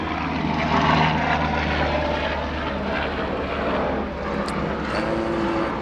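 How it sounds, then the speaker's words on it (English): An aircraft passes overhead outdoors, a steady broad engine drone with a low rotor-like hum that holds loud throughout, swelling slightly near the start and easing a little toward the end, with no talking. "Let just a helicopter pass by and I'll start talking again."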